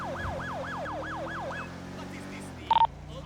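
Police car siren from GTA 5 LSPDFR wailing in rapid repeating sweeps while responding code 3, cutting off partway, followed by a short electronic beep burst over steady vehicle engine hum.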